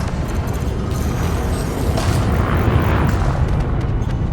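An enemy ship blowing up when destroyed in Elite: Dangerous: a loud, sustained rumbling boom with crackling debris that swells around the middle and rolls on for several seconds, alone without talk.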